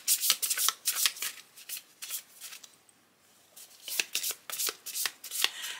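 Close riffling and flicking of a small deck of cards being shuffled, bursts of rapid papery clicks broken by a short quiet pause midway, no voices present.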